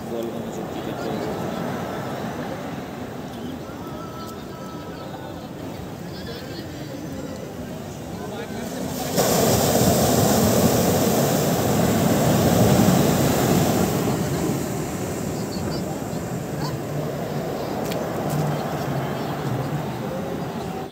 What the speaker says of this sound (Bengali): শুনলে কেমন সমুদ্রের গর্জন?